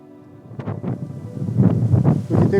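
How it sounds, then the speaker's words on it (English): Strong gusts buffet the microphone outdoors during a windy rabbit-hunting walk with an air rifle, a rough low rumble that swells and surges in uneven bursts and grows heavier toward the end. "We could do without this wind for tonight"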